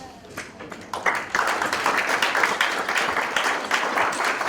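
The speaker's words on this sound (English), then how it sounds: "turn around, and applaud all of our supporters" Honorees and guests at an award ceremony break into applause that starts thin, then swells after about a second into a steady round of many hands clapping.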